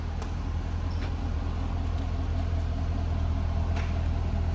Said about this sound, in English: And listen to that exhaust when it comes at idle there.